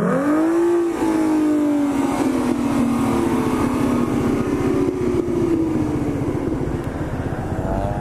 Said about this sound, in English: Let's see a burnout, bro.